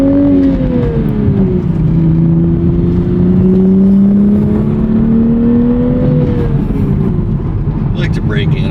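A Toyota A90 Supra drives around town, its engine a steady close hum that rises and falls gently with light throttle, with a few faint clicks near the end.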